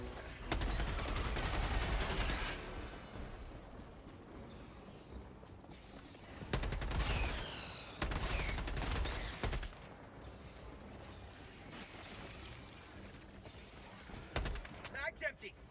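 Automatic and rapid gunfire from Helldivers 2 in broken bursts, loud and near, with gaps between volleys and a few shorter rattling shots near the end, while a player talks over the shooting.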